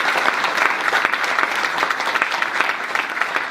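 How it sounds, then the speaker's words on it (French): Audience applause closing a talk on artificial intelligence and the environment, a dense, steady clatter of many hands clapping, loud and continuous throughout with no voices over it. "je crois qu'on peut les applaudir."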